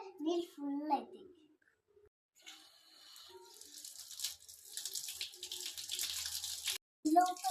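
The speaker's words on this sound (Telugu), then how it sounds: "దాన్ని ట్యాప్ కింద పెట్టి ట్యాప్ ఆన్ చేస్తే నీళ్ళు ఫుల్ అవుతాయి" Water from a tap pours into a water balloon, giving a rushing stream through the middle. A voice is heard briefly at the start and again at the end.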